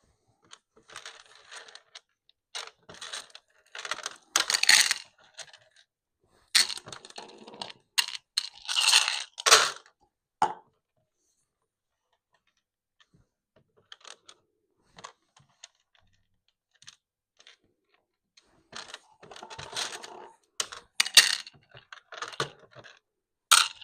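Dice roll and tumble on a hard surface, a set used for a half-life simulation. Several separate bursts of rapid clattering clicks are separated by silent pauses.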